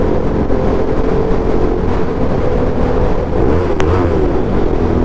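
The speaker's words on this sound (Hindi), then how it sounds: "ये थ्रॉटल करा था अभी मैंने, और पता नहीं कैमरे में रिकॉर्ड हुई कि नहीं हुई, पर आवाज़ तो बाइक की मेरी की ज़बरदस्त है" A motorcycle's engine drones loudly and steadily while riding through a tunnel, the booming, reverberant rumble swelling briefly with a throttle blip near the end.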